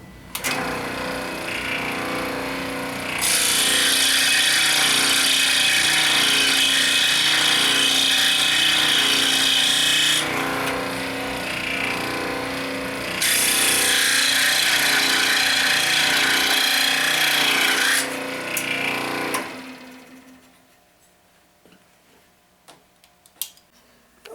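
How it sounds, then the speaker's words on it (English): A scroll saw cuts a notch into the end of a wooden keel in a workshop, its blade buzzing in two long sustained bursts and idling more quietly between them before stopping near the end. "I'm going to use the scroll saw to notch the end of the keel."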